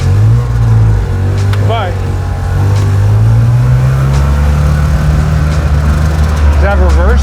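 An unusual one-off old car engine cranks hard, then catches and revs loudly up close, its pitch rising and holding as people talk nearby.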